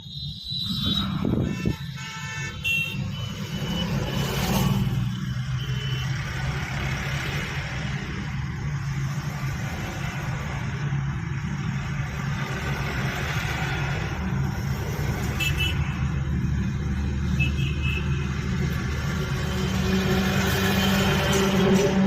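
A car engine in a driving lesson hums steadily at mid pitch and builds gently as the learner speeds up, a continuous near drone with road rumble running the whole time.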